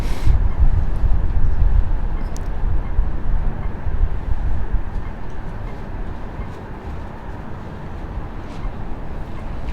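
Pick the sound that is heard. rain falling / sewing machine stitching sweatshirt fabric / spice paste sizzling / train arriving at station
train arriving at station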